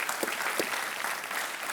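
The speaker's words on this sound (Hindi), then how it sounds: "इनका तालियों के साथ स्वागत किया जाए" Studio audience applause on the Indian game show Kaun Banega Crorepati welcoming a contestant, a brief burst of dense clapping at steady loudness.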